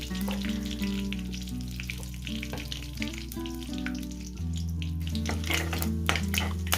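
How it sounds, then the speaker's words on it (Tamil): Mustard seeds and curry leaves fry in hot oil for a Sri Lankan Muslim curry, making a crackling sizzle with sharp pops under loud melodic background music. "ஆயில் ஆட் பண்ணி கொஞ்சம் ஹீட் ஆகக்குள்ள கடுகு ஆட் பண்ணிட்டு கடுகு கொஞ்சமாக பொரிஞ்சு வரக்குள்ள கருவேப்பிலை ஆட் பண்ணுறேன்."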